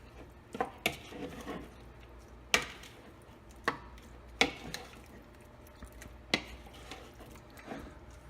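An Italian wooden spoon mixes a chili powder marinade in a bowl, giving irregular soft knocks and sloshy scrapes against the bowl at close range.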